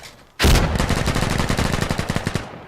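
Gunfire in a competitive video game match: one sharp loud report, then a rapid, evenly spaced burst of automatic shots that slowly thins out, with no voices over it.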